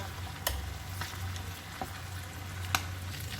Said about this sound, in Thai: ก็ทอดจนเหลืองเลยนะคะ